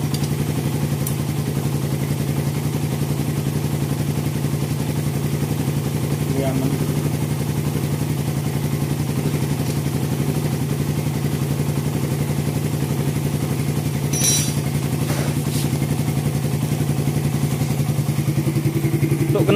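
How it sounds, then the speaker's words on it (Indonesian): A motorcycle engine idles steadily with a slightly leaking exhaust, a constant close throb throughout with faint clatter, while someone speaks briefly over it. "Untuk knalpotnya agak bocor sedikit ya."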